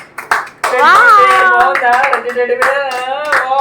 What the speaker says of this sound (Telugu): ఫస్ట్ క్లాప్స్ కొట్టండి అందరూ